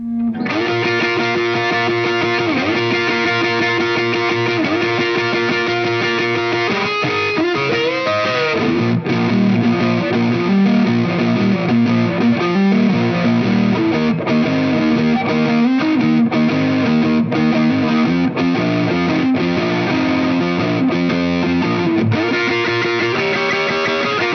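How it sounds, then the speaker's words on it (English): A loud electric guitar plays a chugging riff with shifting notes, heavily distorted by a cranked console, fuzzy and saturated throughout, no voices. "cranking everything to get that very cool and very unique console distortion"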